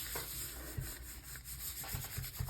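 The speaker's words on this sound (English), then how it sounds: "Now we'll come back in and make sure we've rubbed in all these little spaces." Paper is rubbed by hand onto an inked gelli printing plate, a soft, close, steady scuffing and rustling with a few light taps, without any voices.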